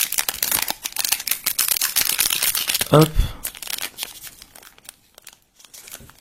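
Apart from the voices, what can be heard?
tearing open foil booster pack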